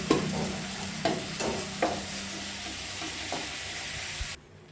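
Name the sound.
fish frying in a wok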